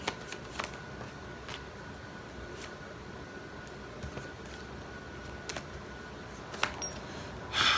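Tarot cards are shuffled by hand in a quiet room, giving soft repeated riffling and tapping bursts at irregular intervals over faint background hiss, with no speech.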